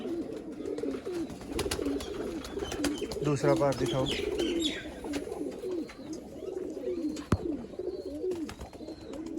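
Pigeons coo in low, repeated throaty calls close by, with someone talking over them and a sharp click partway through.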